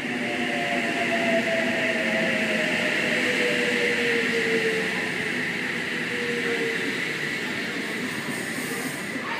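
A Sydney Trains H26 pulls into a platform, a steady loud rolling rumble with a long drawn-out brake squeal sliding downward in pitch, carrying on for several seconds with no talk.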